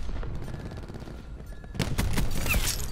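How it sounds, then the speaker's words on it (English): Cluster grenade detonations in Black Ops 4 Beta Control mode, a loud burst of rapid overlapping blasts erupting after a quieter stretch of distant gameplay rumble. "Cluster grenade going out."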